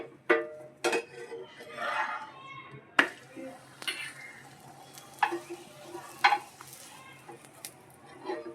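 Paratha roasting with oil on a pan, soft sizzling broken by scraping and clattering spatula strokes at uneven intervals, with a voice speaking faintly now and then.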